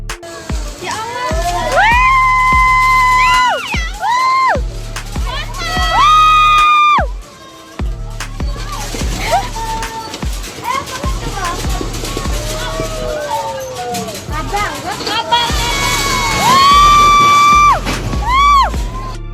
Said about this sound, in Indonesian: Teriakan para warga juga terdengar saat menyaksikan momen tersebut.